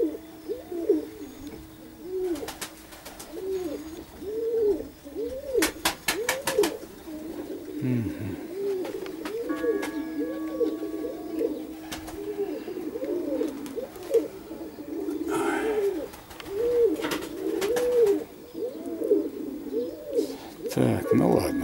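Perm pigeons cooing repeatedly in a steady, rolling rhythm, close and clear, with occasional clatters, knocks and a brief wing flutter, while someone talks at times.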